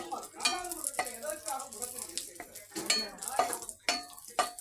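Raisins frying in melted butter in a pan, bubbling and sizzling close by while a utensil stirs and clinks against the pan in irregular bursts, no voices.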